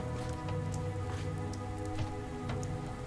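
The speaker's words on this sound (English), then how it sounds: "This goddamn rain. Will it ever end? Pouring and pouring and pouring." Steady rain pouring in the video game Pathologic 3, a constant dense patter with low droning ambience underneath.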